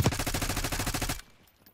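Rapid automatic gunfire in Call of Duty Black Ops 6, a dense, loud burst of evenly spaced shots lasting about a second before cutting off abruptly into quiet.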